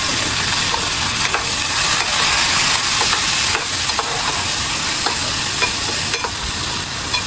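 Prawn momo filling mixed with turmeric and salt is stirred in a hot pan, a loud, continuous close sizzle and hiss with soft scraping strokes running throughout and no speech.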